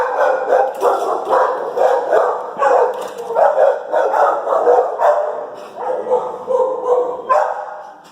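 Several dogs bark and yip repeatedly at an animal shelter, loud and close, in dense overlapping bursts with a few whimpers mixed in.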